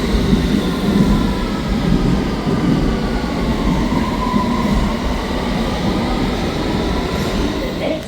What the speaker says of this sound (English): I'm at Bayswater on the District and Circle line, about to take that train